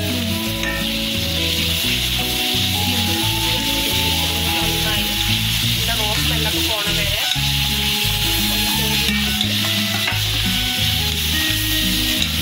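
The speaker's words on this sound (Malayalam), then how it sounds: "അപ്പം ഉള്ളി വാടി വരുമ്പോഴത്തേനും നമുക്ക് നമ്മുടെ ഈ സീക്രട്ട് ഇൻഗ്രീഡിയൻസ് ഒന്ന് പൊരിച്ചെടുക്കാം." Onions and secret ingredients fry in a pan for a mutton curry, giving a loud, continuous sizzle with rhythmic stirring and scraping heard close up.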